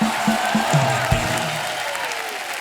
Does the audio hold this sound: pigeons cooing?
no